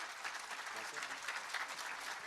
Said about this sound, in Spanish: Un fuerte aplauso para nuestro hermano Pastor Medardo.